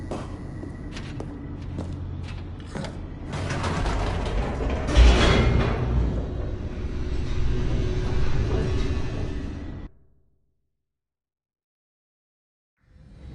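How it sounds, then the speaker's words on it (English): An elevator in the video game The Stanley Parable descends with a heavy mechanical rumble, creaks and rattling clanks, swelling louder midway before cutting abruptly to silence, then a faint return at the end. "The elevator raced downward, plummeting towards an unknown fate."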